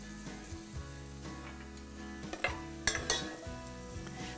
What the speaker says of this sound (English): We'll just let this cook until the onion is transparent